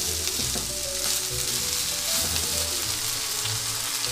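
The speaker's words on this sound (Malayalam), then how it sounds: "വെണ്ടയ്ക്ക മുഴുവൻ ഇട്ടു, ഒന്ന് ചെറുതായിട്ടൊന്ന് മിക്സ് ചെയ്തിട്ട് ഇതിലേക്ക് ആവശ്യത്തിന് ഉപ്പ് ഇട്ട് കൊടുക്കാം" Okra sizzles and fries loudly in a pan with onion and crushed chilli, a dense continuous crackle with occasional stirring, close and without talk.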